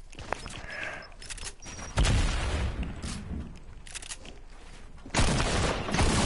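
Shotgun blasts in a video game, two heavy booming bursts a few seconds apart, loud and close, with quieter mechanical clicks between them and no talk.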